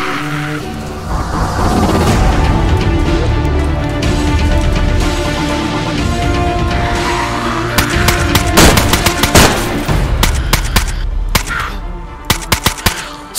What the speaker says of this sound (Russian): Он за мной, прям стреляет меня!